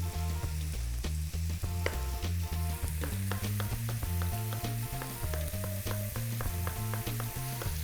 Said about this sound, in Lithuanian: Tuo metu, kol kepa faršas